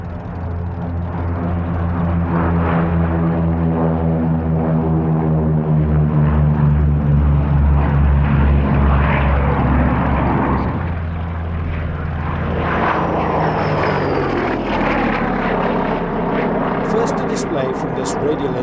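Vintage propeller aircraft with radial engines, including a Gloster Gladiator, pass overhead in a formation flypast at an airshow at Duxford; a loud, sustained droning engine roar rises and shifts in pitch as they go by, with a commentator talking throughout.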